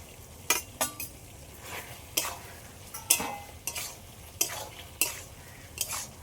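Fried potatoes tipped into a frying pan and stirred for a ghugni with meat, a spatula scraping and clinking against the metal in repeated strokes over a low background sizzle, close and fairly quiet, with no talk.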